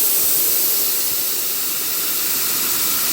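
Nitrous oxide blasting out of a small bottle on a Foreman, a loud steady hiss of gas rushing out continuously, close and unbroken.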